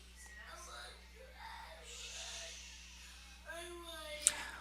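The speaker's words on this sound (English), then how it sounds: "I have screaming child in the background" A young child screams and cries somewhere in the background of a room, rising and falling in short bursts with a louder outburst near the end, while an adult voice talks over it.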